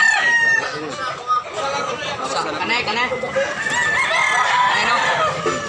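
Several roosters crow and chickens cluck at a crowded poultry market in Tabunok, Talisay, Cebu, the birds loud and close while someone speaks briefly over them.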